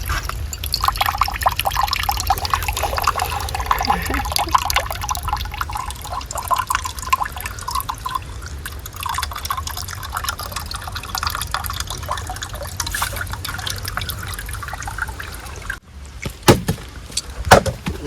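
Tender coconut water poured into a glass at a farmhouse, a close, uneven liquid trickle and splashing with small drips, ending in a few clattering handling sounds.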